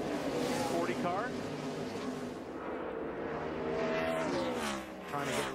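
NASCAR race cars at Watkins Glen roar past in a dense pack, engines whining and shifting pitch as they brake and accelerate through the esses, with a commentator talking over the engine noise throughout.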